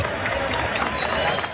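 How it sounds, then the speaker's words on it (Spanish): A roadside crowd in Santos claps steadily for Pelé's funeral procession, a dense wash of applause with a high tone running through it. "y otros lo aplaudían."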